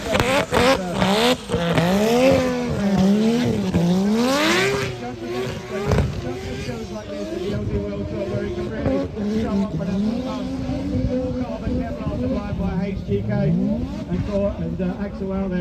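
Drift car at Mondello Park, Ireland, during an LZ World Tour 2024 battle: a loud engine howls and revs with rising and falling pitch sweeps as the car is thrown sideways, with commentary talking over it throughout.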